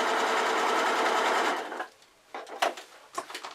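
Sewing machine stitching across the bottom of a fabric iPad case, a steady loud rapid whir for about a second and a half, then stopping, followed by a few faint handling clicks and rustles.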